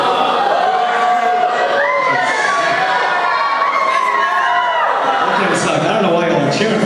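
A student audience at a senior show cheers and shouts together, a loud sustained roar of many voices with whoops rising over it.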